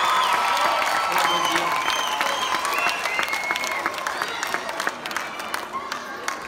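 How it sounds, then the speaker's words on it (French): A crowd at a film premiere in Marrakech breaks into loud applause mixed with cheers and whoops, the clapping dense at first and thinning gradually over about six seconds. "Donc je veux vraiment l'applaudir pour ça."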